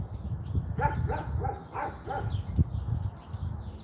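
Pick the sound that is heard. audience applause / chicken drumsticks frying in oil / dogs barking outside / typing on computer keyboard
dogs barking outside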